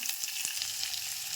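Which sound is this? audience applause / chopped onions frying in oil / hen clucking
chopped onions frying in oil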